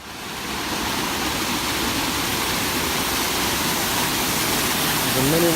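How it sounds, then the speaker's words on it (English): A mini waterfall on the Los Pleumos trail near Santiago de Chile pours steadily in a dense, even broadband rush, near and loud throughout, with a faint voice rising briefly at the very end. "The mini waterfall."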